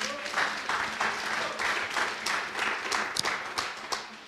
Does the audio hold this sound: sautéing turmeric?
no